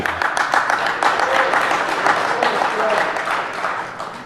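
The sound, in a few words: audience clapping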